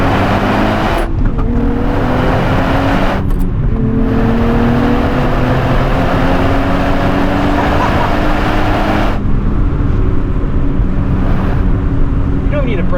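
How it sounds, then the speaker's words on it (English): A manual 2027 Nissan Z NISMO on a first drive around Southern California corners. Its engine drone and road roar are loud and steady from inside the cabin, with rising gear pulls and brief shift gaps. "First drive in the Nissan Z NISMO manual."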